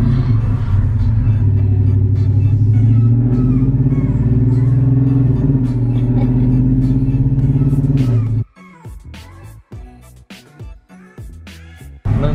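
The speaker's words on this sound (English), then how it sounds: "You just gas it, first gear, let the revs go up." A car engine revs loudly and steadily while driving in first gear, its rising drone carrying for about eight seconds before cutting off into quieter bumps and rattles.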